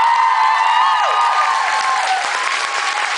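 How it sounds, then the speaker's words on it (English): Concert audience applauding and cheering at a show at the Concorde in Brighton, England, a dense, steady wash of clapping filling the room with a few whistles and shouts riding over it. "when he leaves, you should really give him a round of applause"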